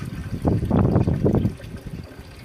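A watery clay mixture of mostly water and a little clay poured out of a bucket, a close gurgling, splashing pour lasting about a second before trailing off into faint dribbles.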